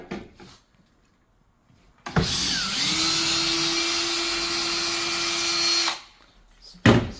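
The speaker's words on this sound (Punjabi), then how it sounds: "ਚਲੋ ਜੀ ਮੈਂ ਸਕਰੂ ਲਾ ਰਿਹਾ। ਡਰਿਲ ਨੇ ਬੜਾ ਸਾਥ ਦਿੱਤਾ ਹੈ।" Power drill driving screws during a DIY kitchen renovation, one sustained whining run of about four seconds with a steady motor pitch, close and loud, bracketed by quiet and brief clunks, no talk.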